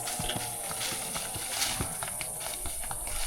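Draft horse hauling a load up a steep slope, hooves clopping in a steady uneven rhythm at moderate distance, with faint background noise throughout.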